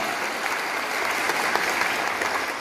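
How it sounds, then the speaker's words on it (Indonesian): Steady applause from an audience at a public anti-corruption lecture, dense and continuous throughout without a break. "Ya, kita memberikan tepuk tangan dulu."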